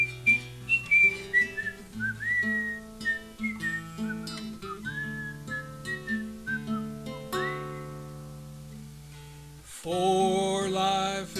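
A person whistles a lively melody at an at-home open mic, rising and falling in clear tones over steady instrumental accompaniment, then ending with a brighter, wavering flourish.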